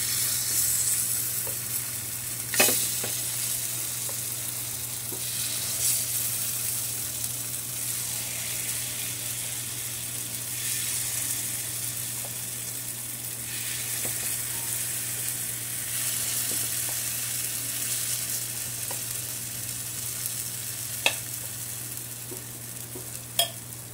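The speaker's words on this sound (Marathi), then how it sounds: "तेल सगळीकडे थोडं थोडं घालून घ्यायचं आहे आणि त्याच्यामध्ये आपलं बॅटर सोडायचं आहे" Ragi (finger millet) appe batter sizzles steadily in an oiled appe pan over a gas flame, a continuous soft frying hiss with a few faint clicks and taps, and no talking.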